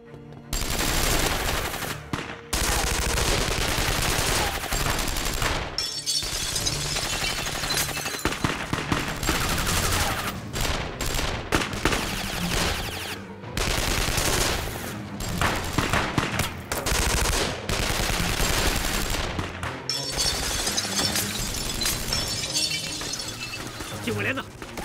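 Loud, dense bursts of machine-gun fire and rifle shots in a wartime battle scene fighting Japanese troops, with rapid crackling volleys over long stretches and shouting voices mixed into the din.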